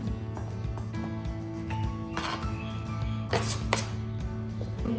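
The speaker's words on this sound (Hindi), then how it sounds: "कटिंग करेंगे एप्पल की।" A knife chops apple slices on a board while fruit chaat is prepared, giving a steady run of close, crisp cutting taps with a few sharper knocks.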